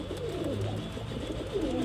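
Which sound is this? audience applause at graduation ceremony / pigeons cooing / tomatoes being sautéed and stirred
pigeons cooing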